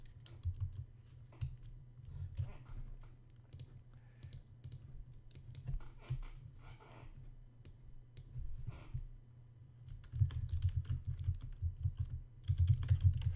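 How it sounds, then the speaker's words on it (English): Fingers type on a computer keyboard during an online Zoom poker session, with steady clattering key presses close by that get busier and louder toward the end. "Sorry for the typing."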